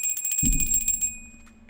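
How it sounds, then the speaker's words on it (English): A small hand bell rung to cleanse a space gives a rapid tinkling ring with a bright sustained tone that fades away, alone and close, joined by a brief low thump. "Why do I ring a bell? Because it cleanses the space."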